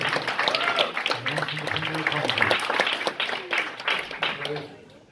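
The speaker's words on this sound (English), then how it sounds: "Round of applause for" Applause from an audience at a rambling house night in the Warrington Irish club. Brisk, close clapping runs for several seconds while a speaker's voice carries over it, then tapers away.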